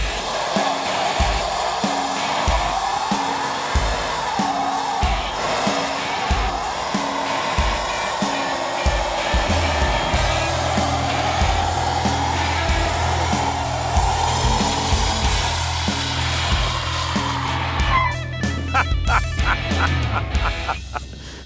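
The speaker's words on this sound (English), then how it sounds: "That was an exceptional skid." A V8-powered luxury VIP car skids, giving a loud, sustained tire squeal over a deep engine roar for about twenty seconds, with the engine note shifting partway through and the sound tailing off at the end.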